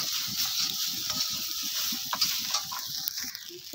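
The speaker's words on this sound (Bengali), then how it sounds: "এই সয়াবিনের ভেতরে আমি একটু নুন দিয়ে দিচ্ছি আর একটু হলুদ গুঁড়ো দিয়ে আমি এটা ভালো করে ভেজে নেব" Soybean chunks fry in a pan with salt and turmeric, giving a quiet continuous sizzle with faint stirring scrapes and clicks, moderately close and without voices.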